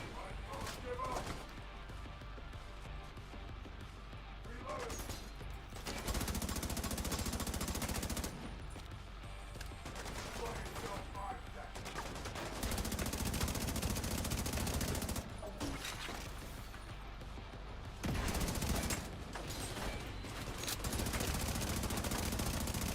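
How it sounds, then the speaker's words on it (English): Video game gunfire comes in bursts of automatic shots and volleys, loud sections alternating with quieter gaps, mixed with game noise and a player talking over it. "Stop shooting me, bro."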